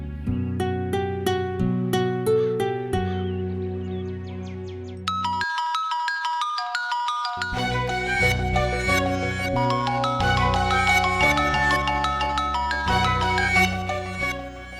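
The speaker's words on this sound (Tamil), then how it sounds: "தனத்துக்கு ஃபோன் பண்ணி கேட்போம்" A melodic mobile ringtone plays loudly and continuously, repeating a bright electronic tune with a short pause midway, as a phone call is placed in a Tamil family drama scene.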